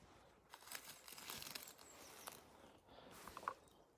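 Artificial leaves for a ghillie suit are crumpled by hand, giving faint, close crinkling and rustling bursts that come in short uneven clusters over a few seconds.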